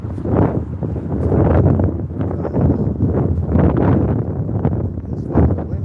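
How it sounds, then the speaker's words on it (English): Strong cold wind on a stormy night buffets the microphone in loud, low, roaring gusts that swell and fade continuously. "It's fucking windy"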